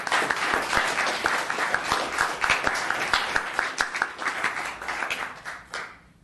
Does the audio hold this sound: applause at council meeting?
yes